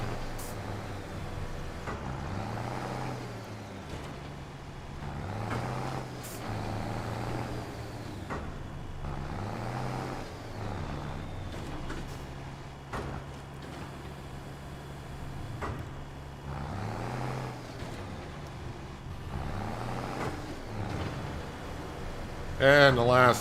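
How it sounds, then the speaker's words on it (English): A farm tractor drives in Farming Simulator 25, its engine droning and rising and falling in pitch as it revs and turns, running continuously with a voice talking over it. "but it's a farm tractor."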